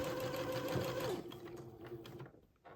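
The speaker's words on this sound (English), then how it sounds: "I just keep sewing along the edge of the sleeve." A sewing machine stitches along the edge of a sleeve on a baby garment, its steady whirring motor heard up close, then slowing and stopping near the end.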